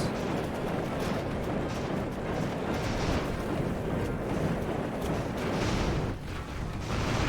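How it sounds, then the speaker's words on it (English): Bombs dropped by enemy airships in Airships: Conquer the Skies explode in a dense, continuous rumbling barrage of booms and crackle, steady and loud throughout with no talking. "they're dropping little bombs or something on us"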